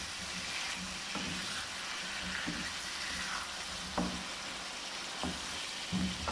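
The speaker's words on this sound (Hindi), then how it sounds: "इसको थोड़ा भून लेंगे" Eight garlic cloves and an inch of ginger fry in a kadhai, a quiet steady sizzle broken by a few light stirring clinks.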